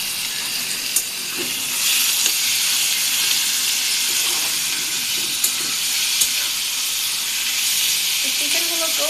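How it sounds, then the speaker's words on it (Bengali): Chicken pieces frying in a pan with onions for a homemade chicken chap, a loud continuous sizzle and hiss with occasional small clinks, close up and steady throughout. "চিকেনগুলোকেও ভেজে নিব।"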